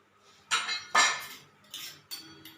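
A metal utensil scrapes and taps against a pan while turning puran poli, giving two sharp clanks followed by a few lighter knocks. No one speaks.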